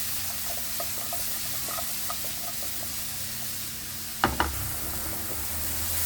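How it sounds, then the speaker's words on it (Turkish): Garlic cloves sautéing in a pan, a steady soft sizzle with light stirring clicks and a brief louder clatter partway through; no one speaks. "Hepsini bir güzel sotelemeye başlıyoruz."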